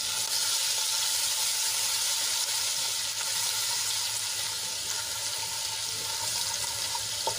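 Ginger, garlic and chili paste fries in hot oil in a pan with cumin and a pinch of asafoetida. The sizzle is close, steady and continuous, with a hiss that holds evenly from start to finish.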